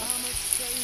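Native chicken pieces frying in a hot pan before coconut milk goes in, a close, bright crackling sizzle over a brief moment.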